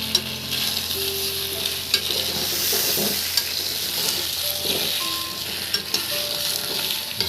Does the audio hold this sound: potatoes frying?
yes